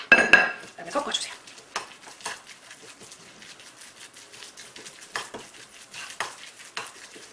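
A spoon mixing a corn and flour batter in a bowl, giving soft irregular scrapes and light clinks, quiet and close, with faint talk now and then.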